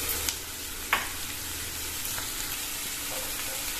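Onions sauté in a pan with coarse rock salt for chilli idli, giving a steady close sizzling hiss with a couple of light clinks from stirring near the start.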